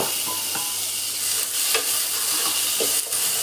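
Tomatoes are added to browned shallots, onions and garlic frying for a Kerala chicken curry. A loud, continuous sizzle runs under scraping stirs of a spoon against the pan, with occasional sharper hisses.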